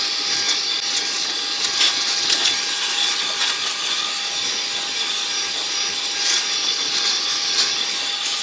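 Saker 3-in-1 cordless vacuum cleaner running with its small brush attachment fitted, giving a steady, loud high-pitched whine with a constant tone throughout and no talking.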